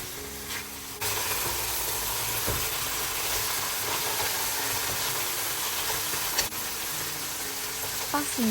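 About a kilogram of lamb fries in olive oil in a pot, a loud, steady sizzling hiss that starts abruptly after a quieter moment and runs on with occasional clinks, close by and without talk.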